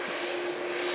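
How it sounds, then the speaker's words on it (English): A Boeing Dreamliner airliner at Manchester Airport gives a steady, distant engine roar with a faint tonal whine, heard alone in a one-second stretch. "Virgin Atlantic lining up as the TUI Dreamliner vacates good right in exit"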